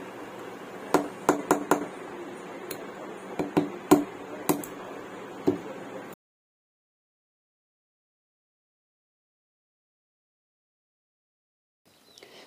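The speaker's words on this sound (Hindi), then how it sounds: "इस मोटर के बीचों बीच जो ये छोटा सा बुश लगा हुआ है इसे हम जल्दी से निकाल लेंगे" A small bushing is worked free from the center of a small DC motor, giving a quick series of sharp metallic clicks and taps over several seconds, followed by near silence.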